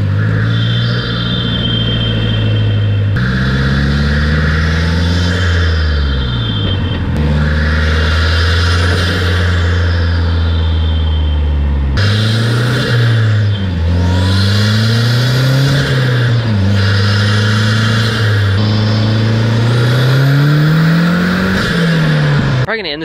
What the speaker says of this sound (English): The cool thing about this blow-off valve is it makes so much noise at low RPMs too